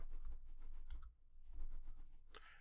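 Computer mouse clicking while drawing in Inventor CAD software: a quick series of sharp, close, dry clicks in an uneven rhythm, with a short pause midway and a slightly louder click near the end, with no voices.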